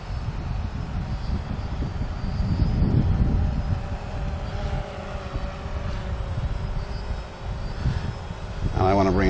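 A DJI Phantom quadcopter drone flies with a steady, continuous whirring drone, loud and sustained throughout, its pitch wavering slightly as it manoeuvres, with a brief rise in tone near the end.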